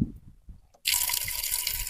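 Tap water starts running after a quiet moment with faint handling noises, then a steady close splashing stream pours while food is washed for a chicken dum parota recipe.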